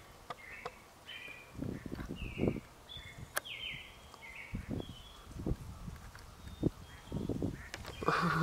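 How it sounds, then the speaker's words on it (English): Ducks near a lake on a freezing, icy morning give several short, scattered calls amid other bird chirps, with low rustling thumps close by and no talk. "Goodbye, ducks."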